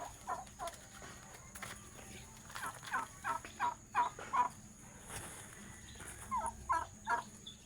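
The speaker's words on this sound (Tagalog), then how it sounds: "ito ang pabo naman oh. kita nyo ng pabo" A turkey gobbles in quick rattling bursts, repeated several times at moderate distance against a faint steady background hum.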